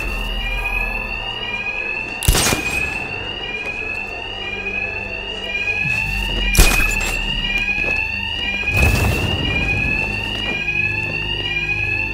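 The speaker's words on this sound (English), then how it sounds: "Just like the others, these thugs can't hear a thing over the alarms." Repeated wailing alarm bells blare continuously throughout a heist level of Batman: Arkham Knight, loud and alone, with a few heavy thuds and impacts cutting through.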